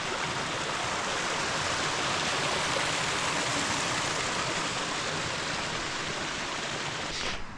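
Water runs down an eroded, gullied hiking path on Criffel in Dumfries, a steady close rushing and hissing that holds evenly throughout with no voices.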